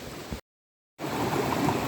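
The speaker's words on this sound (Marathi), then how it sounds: "आणि हे पाणी अजून पण वाहतंय, या साईडला जातं." Stream water flowing through Plus Valley on a trek near Tamhini Ghat, a steady broadband rush heard close by, broken by a short gap of silence before the flow resumes.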